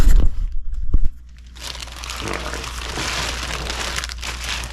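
Plastic and foam packing material crinkles and rustles loudly and close by while a new radiator for an F350 revival is unboxed, with a dense, continuous scrunching texture after an initial sharp handling noise.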